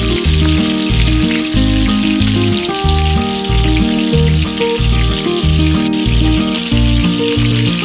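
Battered Amritsari fish frying in hot oil in a kadai: a steady, loud, dense sizzle that runs throughout under tonal background music.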